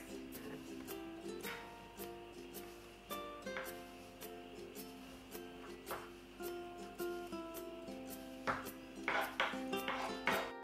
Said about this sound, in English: Then use a spoon and scrape the seeds all the way out from the center.